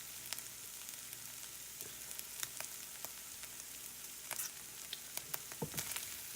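Potato eggs fry and cook in a pan with a faint, steady sizzle and scattered small pops and crackles, plus a few soft utensil taps.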